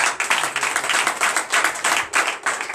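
A church congregation at a night deliverance and prophecy service applauds loudly, a bright, dense roar of many hands clapping that swells and dips in waves, close and strong, with no talk.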